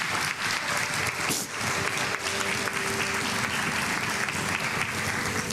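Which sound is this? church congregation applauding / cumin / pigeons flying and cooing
church congregation applauding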